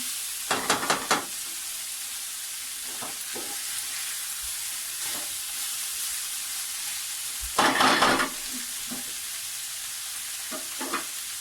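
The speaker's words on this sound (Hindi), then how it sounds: "अब हम इसे पकाएंगे, थोड़ा सा भूनेंगे।" A macaroni chicken mixture sautéed in a pan, with a steady background sizzle broken by a few quick stirring scrapes and a louder burst of frying partway through.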